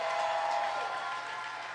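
Audience applause at a Gong Show fills the space, a dense, steady wash of clapping that fades slightly toward the end.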